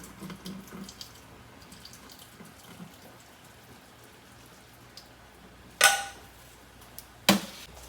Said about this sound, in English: to drain off the noodles. I don't want them to get too soft.